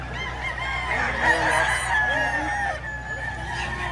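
Roosters crow one after another with rising, drawn-out calls over a steady murmur of a busy crowd at a cockfight market in Padre Garcia, Batangas, several birds at once at moderate distance.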